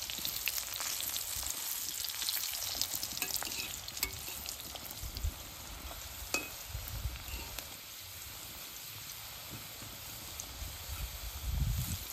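Slices of banana peel fry into chips in hot oil, giving a continuous soft, crackling sizzle with occasional stirring scrapes and a brief louder bubbling burst near the end.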